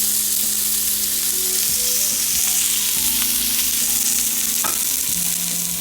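A seasoned ribeye steak sears in hot oil with a loud, steady, close sizzle that runs the whole time. A few faint clinks sound underneath.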